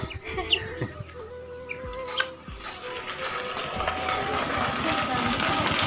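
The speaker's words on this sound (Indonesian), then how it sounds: "ada ayam Afrika di sini ya" African chickens cluck and chatter nearby in a village in the morning while people talk over them, with footsteps and rustling underneath.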